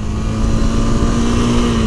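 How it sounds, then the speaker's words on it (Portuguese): A motorcycle engine straining in gear as the rider holds it at high load, a loud, steady drone with a strong tonal hum running unbroken throughout. "Então escuta bem o barulho do motor, você vai saber quando a sua moto tá forçando"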